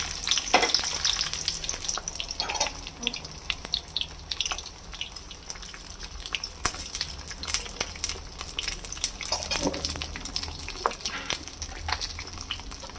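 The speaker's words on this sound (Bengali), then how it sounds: "এবার বেগুনগুলোকে ভেজে নেব" Eggplant cut into long slices frying in hot oil in a pan, a steady close crackle and sizzle that runs throughout with a few brief spatters and stirring sounds.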